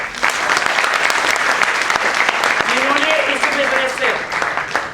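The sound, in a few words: audience applause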